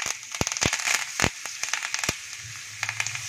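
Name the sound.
curry leaves crackling in hot oil tempering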